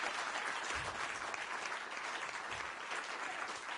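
A live audience applauds continuously to welcome two event organizers onto a stage, giving dense, steady clapping close by throughout with no pause.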